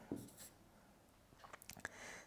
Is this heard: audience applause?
no